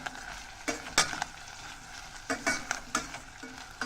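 Pre-cooked orange veggie chunks fry over a medium-high flame, a soft sizzle punctuated by repeated spoon clacks and scrapes in uneven bursts as they are stirred.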